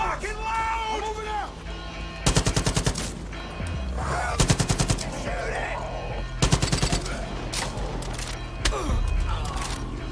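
Automatic gunfire in Far Cry 5 against an enemy, fired in several sharp rapid bursts over steady game music and ambience, with a voice speaking between the volleys.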